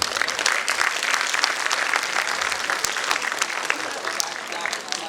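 An audience at a school annual day function applauds in a dense, continuous burst of clapping that holds steady throughout, with some voices mixed in.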